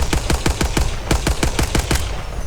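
Rapid automatic gunfire from a weapon in the shooter game Apex Legends, about a dozen sharp, evenly spaced shots in two bursts, loud and close, with no talk over it.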